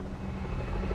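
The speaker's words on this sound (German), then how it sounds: "Jetzt kommt der Helikopter, der uns in 1000 Stücke schießen möchte" Helicopter approaching in the video game Metal Gear Solid V, a steady dense rotor and engine drone that stays loud and continuous for the whole moment, with no talk over it.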